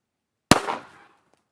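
One sharp, loud report from an Underwood Penetrator .32 ACP pistol fired through a chronograph, with a short decaying ring and then silence.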